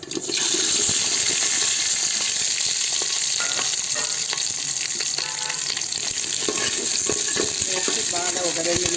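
Cumin, mustard seeds and green chili fry in a pan of hot oil for a gurugaku leaf curry, a loud, steady sizzle with scattered crackles and pops from the seeds and occasional stirring scrapes.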